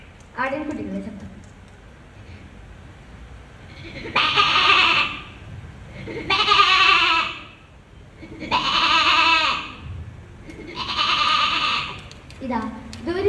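A mimicry performer on a stage imitates lambs bleating, giving four loud, wavering bleats at steady intervals, with brief talk at the start and end.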